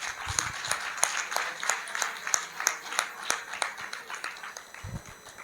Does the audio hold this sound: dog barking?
no